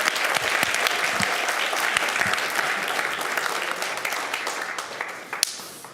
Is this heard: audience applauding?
yes